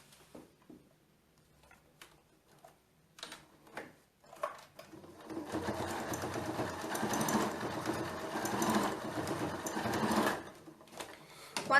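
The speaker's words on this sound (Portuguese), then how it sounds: "vou colocar uma alcinha aqui de um lado e uma alcinha aqui do outro lado e vou costurar" A sewing machine stitches a strap onto a handmade bag, starting with a few short, quiet bursts of needle clatter before settling into a steady run of fast stitching for several seconds, then stopping.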